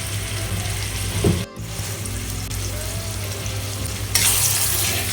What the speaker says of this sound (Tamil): மஞ்சத்தூள், தக்காளி போட்டதும் தக்காளி நல்லா சதசதன்னு வதக்கி எடுத்துக்கோங்க